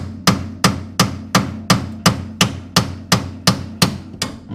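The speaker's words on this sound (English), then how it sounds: "If you hit with a hammer" Hammer striking the steering knuckle of a 1968 Ford Mustang to free the upper ball joint, eleven loud metallic blows at an even, quick rhythm, each ringing briefly before the next.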